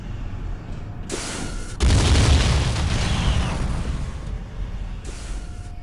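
Bugs bursting out of the ceiling in Star Trek: Elite Force 2, a loud booming explosion with a rumbling, crumbling tail after a brief lead-in, then fading into ambient hum with small debris sounds.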